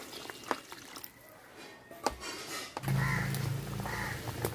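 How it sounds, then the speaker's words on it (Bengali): Water poured into a pan of fish curry to make gravy, a steady splashing pour starting midway and running to the end, loud and close after a few faint knocks. "ঝোলের জন্য জল দিয়ে দিতেছি"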